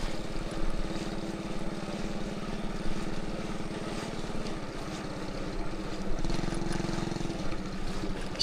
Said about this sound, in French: Conduit la moto.